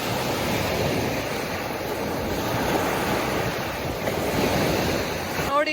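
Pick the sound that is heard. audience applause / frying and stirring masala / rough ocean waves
rough ocean waves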